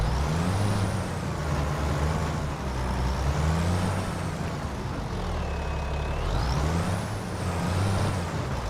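A truck in Farming Simulator 25 runs its engine steadily and loudly throughout, with low rumbling and a high whining tone that sweeps up and down, like air brake and compressor hiss over continuous vehicle drone. No one speaks.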